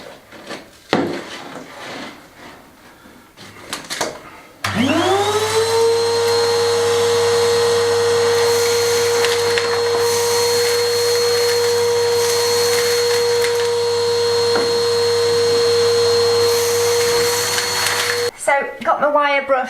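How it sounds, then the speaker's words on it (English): A vacuum cleaner starts up and runs steadily with a loud, constant whine, cleaning an old stone building's floor before a limecrete slab is laid, preceded by brief knocks and shuffling and cut off abruptly near the end. "I'm going to vacuum it all off first"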